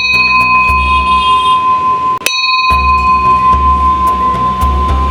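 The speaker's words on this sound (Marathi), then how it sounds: "हा बेल धातू या. आवाज त्याचा खणखणीतच राहणार." An antique bell-metal vessel for sale at a wholesale brass and copper market in Nashik rings with a bright, sustained metallic tone after being struck. The ring breaks off briefly midway, then resumes and holds steady with no talk over it.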